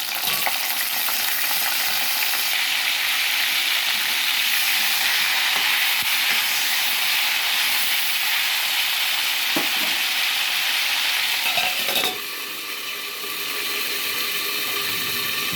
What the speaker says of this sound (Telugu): ఒక్కొక్క వంకాయ మెల్లిగా వేసుకుందాం, నూనె పైకి రాకుండా.